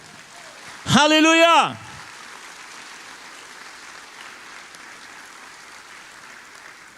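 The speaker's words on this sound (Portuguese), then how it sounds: "Jesus está vivo e está aqui esta noite, e aplauda ele, aleluia" A church congregation at an evening faith service applauds, a steady, even wash of clapping that follows a brief, loud shouted exclamation from a single voice.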